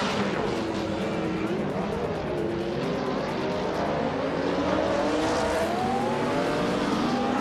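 Racing engines drone steadily as cars start a race in a racing game, a 1999 BMW V12 among them, with a continuous layered roar and rising engine tones and no distinct pass-bys.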